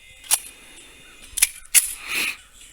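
Sharp, isolated shots from a Ducks Unlimited Para 1911 pistol in .45 ACP, roughly four reports spaced irregularly, each brief and crisp with quick decay and no talking between them.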